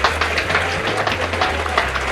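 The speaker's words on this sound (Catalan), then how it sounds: "Rebem amb un fort aplaudiment en Ben Babbau." A studio audience at a game show claps in a dense, steady burst of applause, fairly loud and close, with a low background hum.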